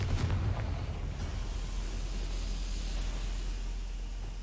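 A Confringo fire spell blast in the wizarding game Hogwarts Legacy, a sharp burst at the start followed by a loud rumbling roar that slowly decays, with no talking.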